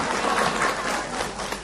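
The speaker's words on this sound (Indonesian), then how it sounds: "Tepuk tangan buat Fadli yang tidak pernah punya utang." A studio audience gives a brief burst of steady clapping at a televised Indonesian religious talk show.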